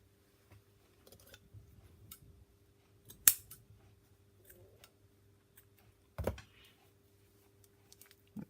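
Scissors snip paper and cloth for a handmade mini journal, a few quiet, close cuts scattered among soft handling clicks in a hushed room.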